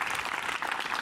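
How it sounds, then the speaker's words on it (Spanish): Brief burst of dense audience applause at a televised comedy show, steady and moderately loud, with no talk over it. "El aplauso para el perro Guarumo"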